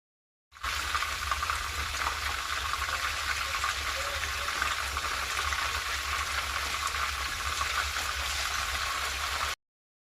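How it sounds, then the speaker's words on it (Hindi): Kebabs deep-frying in oil give a constant, close bubbling sizzle that runs evenly for about nine seconds, then cuts off. "इतना ही इसमें ऑयल डालिए, फ्राई नहीं करने, डीप फ्राई"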